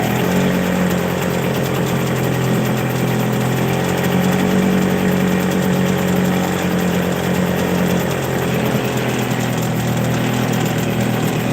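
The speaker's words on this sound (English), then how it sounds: "It is a two-stroke, so it's a little loud, but I'd rather run it dry than to let it sit with gas in it." Hangkai 6hp two-stroke outboard engine, freshly carb-rebuilt, running dry with a loud, steady buzzing idle that continues unbroken at close range.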